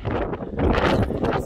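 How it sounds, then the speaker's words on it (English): Wind blowing during the Svalbard polar night, buffeting the microphone with a loud, steady roar that swells and gusts throughout the short stretch. "It's a bit too windy."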